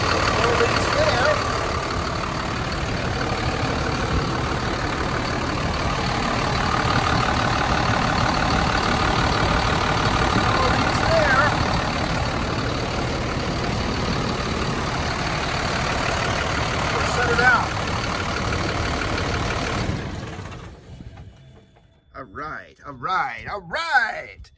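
A school bus converted into a skoolie idles just after starting, a steady heavy engine rumble running loud and continuous until it cuts off near the end, followed by a few brief clunks.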